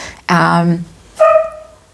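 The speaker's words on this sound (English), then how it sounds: "the dog's shriek, his soprano shriek" A dog lets out two high-pitched shrieking yelps, the first longer and wavering, the second shorter and thinner, close by with quiet gaps between.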